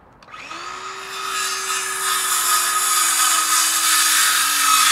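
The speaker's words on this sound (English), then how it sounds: "And we're just having Brian cut us some cross members here." A power saw cuts wooden cross members outdoors on grass, a loud, close, continuous whining drone that builds in intensity and holds steady without pauses.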